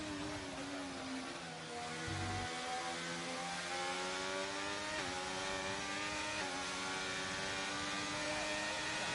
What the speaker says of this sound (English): So we can enjoy the cool sounds of an Alpine engine.